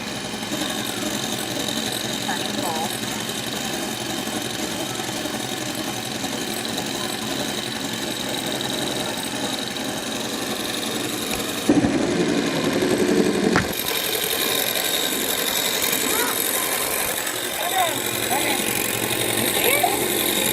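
A hand mixer whips dalgona coffee at high speed, giving a loud, steady motorized whir and rattle much like road construction. The noise runs nonstop, close and harsh, swelling briefly partway through.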